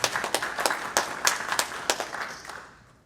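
Audience applause at an evening political fundraiser, a room of clapping hands with sharp individual claps standing out, fairly close and steady for a few seconds before thinning out and fading at the end.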